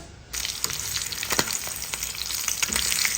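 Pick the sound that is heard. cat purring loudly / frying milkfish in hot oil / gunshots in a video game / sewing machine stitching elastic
frying milkfish in hot oil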